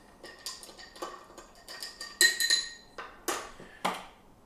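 Ice clinking against glass as a Sazerac cocktail is stirred with a spoon, a quick series of bright taps and rattles at close range, with a few louder knocks midway.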